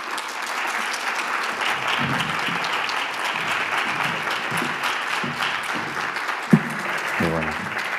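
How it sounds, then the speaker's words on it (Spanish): Audience applause at a town hall talk welcoming an author, sustained dense clapping from a sizable crowd, with a few murmured voices and a thump beneath it near the end. "le pedimos un aplauso a Rafael Santandreu."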